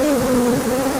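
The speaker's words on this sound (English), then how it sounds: "Lots of bees coming out." Honey bees swarm and buzz around an opened hive during a frame inspection, a loud, close, steady drone with a wavering pitch filling the whole moment, no voices.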